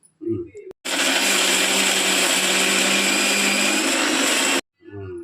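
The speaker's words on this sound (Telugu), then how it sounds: "మసాలాలో అల్లం వెల్లుల్లిపాయ కలిపేసి ఇప్పుడు మిక్సీ పట్టేస్తాను" A mixer grinder whirs loudly and steadily for about four seconds grinding masala with ginger and garlic, framed by brief bits of speech before and after.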